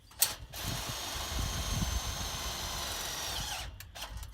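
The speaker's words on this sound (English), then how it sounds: "I'm putting this bolt in from top to bottom" A bolt driven into an adjustable-fit wind brace on a hoop-house frame with a power driver, a continuous ratcheting, whirring mechanical buzz lasting several seconds between short clicks, close and loud.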